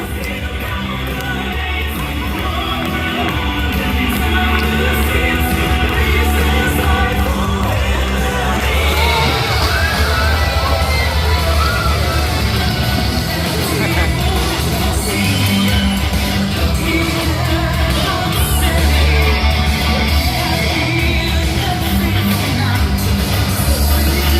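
Audience at the Nemo dolphinarium show in Odesa cheering and yelling, a loud, sustained crowd roar with whoops and claps that swells after the first few seconds and carries on steadily.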